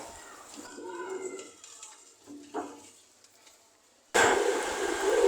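Pigeons coo softly and repeatedly in a pigeon loft in Khulna, Bangladesh. Near the end a sudden loud, steady noise swamps them.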